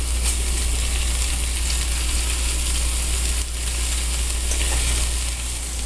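Red pepper flakes sizzle steadily in a hot pan while lasagna filling cooks, a dense, constant frying hiss close up with a brief dip partway through and no talking.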